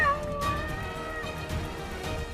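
A cat meows with a clear, high, wavering cry near the start, then fainter mews follow over a steady background bed, with no speech.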